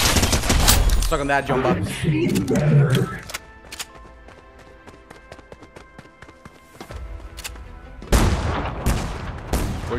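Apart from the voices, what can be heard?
gunfire in the video game Fortnite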